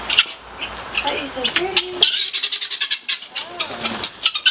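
Backyard chickens squawk and chirp in a run at feeding time, a string of high, excited calls close by, with a person talking briefly over them.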